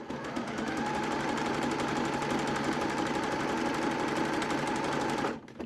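A sewing machine runs steadily, stitching a seam in jersey fabric for a raglan top, its fast even needle rattle continuous and close for about five seconds before stopping abruptly.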